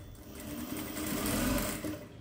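Sewing machine running steadily while stitching an open hem, a fold laid close along a pulled thread near the edge of the fabric; a continuous close motor whir with rapid needle chatter throughout, no voices.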